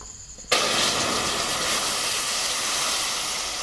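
Milk poured into a hot pan of caramelized sugar and tea leaves sets off a sudden loud steamy hiss that bursts in and holds steady, close and with no talk.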